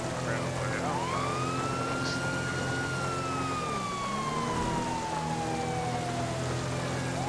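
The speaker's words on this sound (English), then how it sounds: "We're gonna turn our sirens out since we're almost there." Police car sirens wail in the video game GTA V, a single siren sweeping up and then slowly descending over a steady engine drone, with faint talk in the background.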